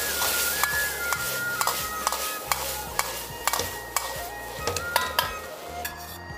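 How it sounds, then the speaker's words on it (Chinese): Mushroom flowers and chili peppers are stir-fried in a wok, giving a continuous sizzle punctuated by frequent, rhythmic metallic scrapes and clanks of a spatula against the pan, loud and close, with no speech. "翻炒均匀，就差不多可以了"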